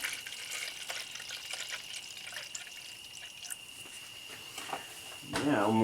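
Dexcool coolant pours through a funnel and elbow into a Buick LaCrosse 3800 cooling system, a steady soft trickle close by that swells into a louder gurgling splash at the end.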